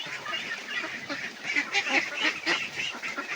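Ducks feeding on banana trunk and rice bran, a flock giving a continuous chorus of overlapping nasal quacks and honks, close and moderately loud, with no talking.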